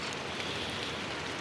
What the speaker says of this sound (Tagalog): So ito yung unang ulan ngayong after ng El Nino.